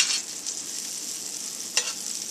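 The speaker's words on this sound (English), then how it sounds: "I got some fried mushrooms here. Just grilling them up in some butter." Mushrooms frying in butter in a pan for an omelet, a soft, steady sizzle with one brief sharper crackle or scrape partway through, and no talking.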